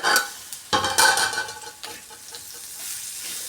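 Bitter gourd sautéing with salt in a covered pan on the stove, with a few clattering stirs and a soft sizzle that are loudest early and then settle into a quiet hiss.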